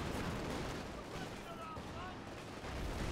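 Land Mattress rocket artillery barrage in a World War II strategy game, with a dense, continuous rumble of rapid explosions and crackling fire filling the whole stretch, loud and close.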